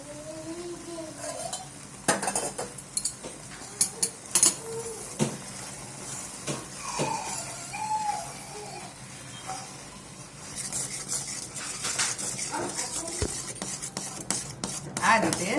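A spoon stirs sugar syrup into a semolina and gram flour mixture in a hot pan with the gas off, giving soft, quiet scraping strokes and light clinks while a voice talks intermittently.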